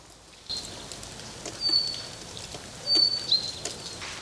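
Light rain falling outdoors on a rainy day beside an old abandoned building, a steady soft wash of drops with a few brief bird chirps on top, no talking.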